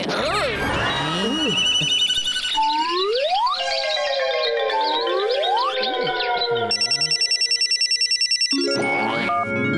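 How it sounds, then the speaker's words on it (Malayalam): A cartoon telephone in Motu Patlu rings before the call is answered. A rapid, bright repeated ring is heard amid loud, busy animated sound effects, with swooping whistles and glides layered over music. "Hello, Motu Patlu help line നിങ്ങളെ സഹായിക്കുവാൻ വേണ്ടി മാത്രം."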